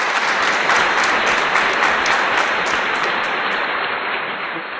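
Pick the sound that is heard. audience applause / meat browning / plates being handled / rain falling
audience applause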